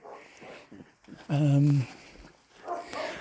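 Dogs on an evening walk through open farm fields give a single loud bark-like burst amid quieter yips and rustling, with no one talking.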